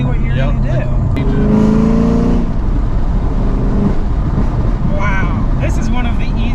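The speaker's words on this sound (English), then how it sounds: "That auto rev match is sweet." Chevrolet Camaro ZL1 1LE with a manual gearbox blipping its engine for automatic rev matching during shifts, loud and close from inside the car, with rising rev sweeps over a constant drone and a voice talking throughout.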